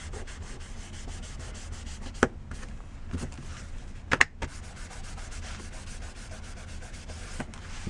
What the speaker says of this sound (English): Give it a burnish.